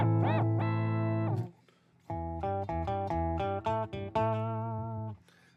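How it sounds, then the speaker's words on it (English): Electric guitar played through a Digitech Whammy pitch-bending pedal, with notes swooping up and down in pitch before a run of short, choppy plucked notes, clean and close with no talking. "So you've got the Digitech whammy here."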